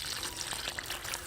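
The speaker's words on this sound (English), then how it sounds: "I just fill up the hole with water." Water poured from a can into a planting hole in a garden bed, a brief, steady close splash and trickle with no talk.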